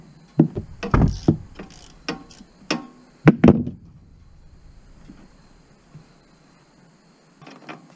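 A ratchet loosens the 17 mm oil drain bolt on a Honda Rancher ATV, giving a series of sharp close metallic clicks and clunks through the first few seconds, then quieter handling noises.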